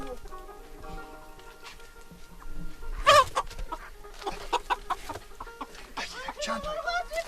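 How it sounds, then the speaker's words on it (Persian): Chickens cluck and squawk nearby, with one loud burst of cackling partway through and busier clucking toward the end, while faint voices talk in the background. "مرغا"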